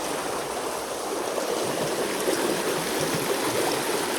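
A large, swollen stream rushes and churns after heavy rain, a loud steady roar of flowing water that fills the whole stretch with no voices over it.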